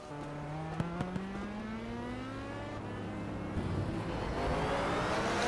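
Onboard Le Mans Series prototype race car engine roaring steadily down a start-finish straight toward a chicane, a loud sustained whine with rising harmonics as revs climb and a gear change or two.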